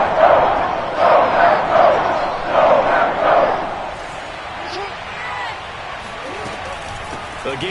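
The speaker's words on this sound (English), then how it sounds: "the crowd getting into it as we come up on a big 3rd down" Stadium crowd roaring during a football game at M&T Bank Stadium ahead of a big third down, a broad swelling noise with rhythmic surges in the first half, then settling to a steadier lower murmur.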